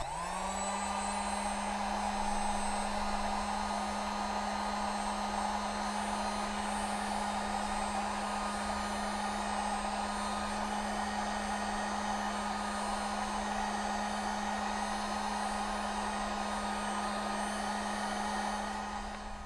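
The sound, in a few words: hair dryer heating a ring mark on a table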